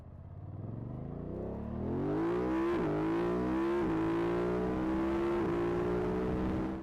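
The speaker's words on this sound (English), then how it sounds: "And that's an inline engine." A BMW F 900 GS inline engine revs hard up through several gears, its pitch climbing and dipping at each shift, with a deep, crackling exhaust note that stays loud and close throughout.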